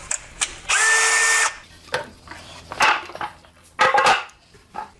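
A cordless power drill drives screws into a wooden cleat for a storage shelf, giving one sustained high whir followed by several short bursts and clicks of tool handling, close by and fairly loud.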